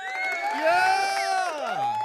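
A cheering and whooping crowd sound effect played from a soundboard, with high excited voices and shouts swelling and overlapping in a brief continuous burst, with little clapping evident.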